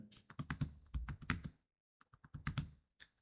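Fingers type on a computer keyboard in two quick bursts of close, clicky keystrokes separated by a brief pause.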